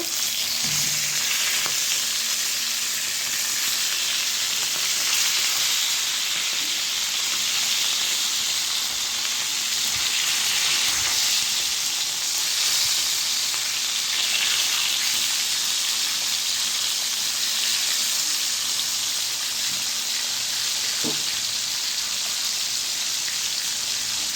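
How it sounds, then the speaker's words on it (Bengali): Rui fish pieces frying in hot oil in a home kitchen, a steady dense sizzle and crackle lasting throughout, close and even, with occasional faint utensil taps and no talking. "মাছ ভাজা আমার পাঁচটা হয়ে গেছে এখন আমি এটা পাল্টিয়ে দিব"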